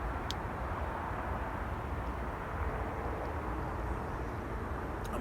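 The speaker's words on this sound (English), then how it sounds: "Is that an airplane? Yeah, it's an airplane." Airplane passing overhead at night above an open-sky campsite, a steady broadband engine rumble and rush that holds evenly throughout, distant and moderately faint, with no voices.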